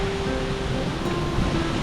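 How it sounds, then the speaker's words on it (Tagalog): Steady broadband rush of river water flowing past a campsite in the mountains, continuous and fairly close, with no voices over it. "Yung tunog nung tubig ay nakakakalma talaga."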